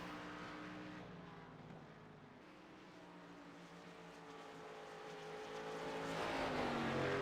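Race car engine from the 24 car on track at ISM Raceway in a Cup Series sim race, a steady droning engine note with shifting pitch that swells louder toward the end, no talk over it.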